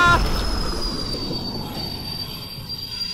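Wheels squealing as a train passes in the zombie VR game Propagation VR, a loud rumbling approach fading into a sustained high metallic screech that carries alone throughout.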